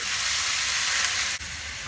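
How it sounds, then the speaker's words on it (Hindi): Lukewarm water hitting a hot pan of mutton karahi masala, a loud broad sizzling hiss that holds steady, then briefly dips before continuing slightly quieter. "मैं इसमें डाल दूंगी 1 गिलास पानी नीम गर्म"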